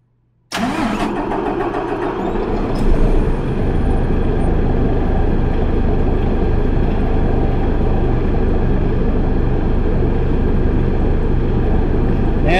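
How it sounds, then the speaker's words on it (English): Paccar MX-13 diesel truck engine, being checked for an injection pump fault, cranks briefly, fires up loudly and settles into a steady, rumbling idle that continues close and unbroken to the end. "So I'm gonna start the truck."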